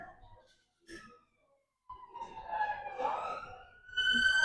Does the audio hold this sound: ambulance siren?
yes